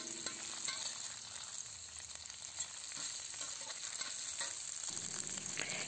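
Shrimp sauté in a pan for Bicol-style pancit bato, giving a soft, steady sizzle with light stirring scrapes throughout, fairly quiet and with no talking.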